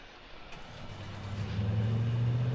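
Truck engine driving in a video game, a low hum that builds into a louder, steady rumble toward the end, heard alone without talk.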